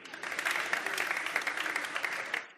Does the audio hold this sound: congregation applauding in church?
yes